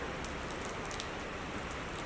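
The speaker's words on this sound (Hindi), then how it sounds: "बहुत बारिश हो रही है" Heavy rain pours down in a dense, steady hiss of droplets striking surfaces, loud and unbroken with no voices.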